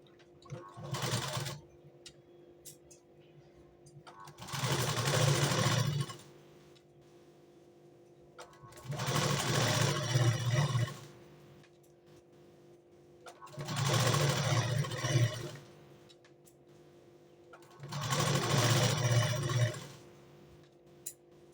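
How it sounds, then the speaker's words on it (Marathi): A sewing machine stitches along the waist side of a blouse in five separate bursts of fast, humming mechanical whirring a few seconds apart, each lasting about a second or two, heard close with quiet pauses between and no talking. "आता मी कमरेकडच्या साईडला पण शिलाई मारून घेते."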